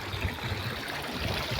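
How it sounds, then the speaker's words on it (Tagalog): River water flows steadily as people wade across, a soft continuous wash and gurgle with faint splashy pulses, fairly quiet and without talk. "Tawid po tayo ng ilog."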